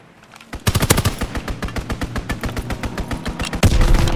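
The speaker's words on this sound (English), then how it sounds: "Strafing run inbound!" A strafing run in a first-person shooter video game unleashes a rapid burst of heavy machine-gun fire, loud close rounds hammering in a fast even rhythm for about three seconds before a heavier impact lands at the end.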